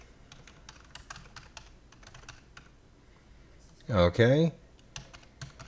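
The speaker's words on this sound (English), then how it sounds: "type in your name" A name being typed on a computer keyboard while creating an account during a Mac OS X 10.6.6 install in VMware Workstation: steady, close clicking of keys, broken by a short spoken word midway.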